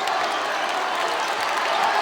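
A high school basketball crowd at a home gym claps and cheers in a sustained, loud wash of applause, with voices mixed into the noise throughout.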